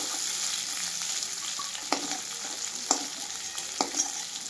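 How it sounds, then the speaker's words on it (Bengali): Chicken meat fries in oil in a pan as a steady, moderately loud hiss, with a few sharp pops and scraping stirs at intervals and no voices. "আমি মাংসটাকে ভালোভাবে ভেজে নিয়েছি। এই যে আমি ভালোভাবে ভেজে নিয়েছি, তেল বেরিয়েছে।"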